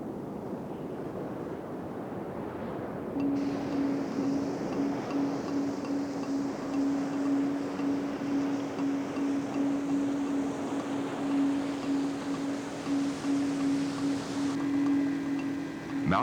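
Tidal water rushes through the narrow entrance to Secure Bay in Australia's wild north-west, a steady broadband roar mixed with wind and a constant low engine hum from a nearby boat, continuous and fairly loud throughout.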